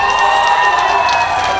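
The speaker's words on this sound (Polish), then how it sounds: "Wielkie brawa." A concert crowd at an outdoor town-festival show applauds and cheers, a loud sustained wash of clapping and voices with a ringing tone running through it.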